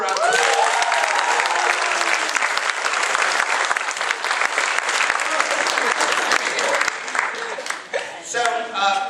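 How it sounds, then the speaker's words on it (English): Loud, dense applause from a roomful of people at an acting workshop, sustained throughout and tapering slightly near the end, with some cheering voices mixed in. "Give them a round of applause."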